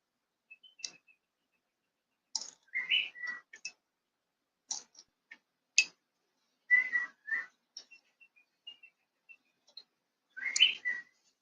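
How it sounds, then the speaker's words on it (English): A pet bird whistles in short scattered bursts of chirps and whistled notes, some tumbling together and others lone peeps, close and fairly soft, with quiet gaps between phrases and no talking. "Bird is trying to be cute."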